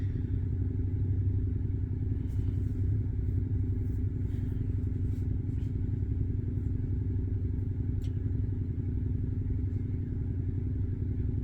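A motorcycle rides close behind a 2022 Tesla Model Y on the road, its steady mid-pitched engine drone and road rumble running continuously at moderate level, with faint clatter above.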